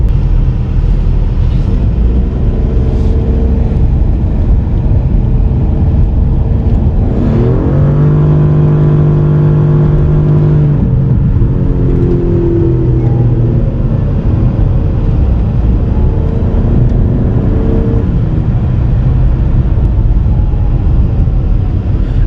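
A 2020 Karma Revero GT electric car accelerates, its rising whine climbing over steady road and wind roar, loud and close from inside the cabin.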